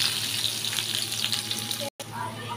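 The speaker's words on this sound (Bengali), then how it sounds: "এমনি সবজিগুলো হালকা করে একটু ভেজে নেব" Vegetables lightly frying in a pan over a medium gas flame give a soft, steady sizzle with faint stirring, broken by a brief moment of silence near the end.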